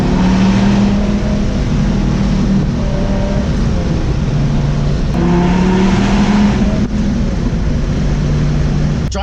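A 2004 Dodge Viper's engine drones loudly and steadily from inside the cabin while driving, a deep rumbling hum with a few rising pitch sweeps as it accelerates, no talk over it.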